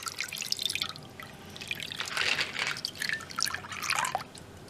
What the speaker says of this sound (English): first I'm going to add the evaporated milk.